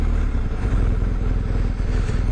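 A 2019 BMW R 1250 GS motorcycle engine runs close up at Daytona Beach, a loud, steady throbbing drone with a rhythmic low pulse and no speech.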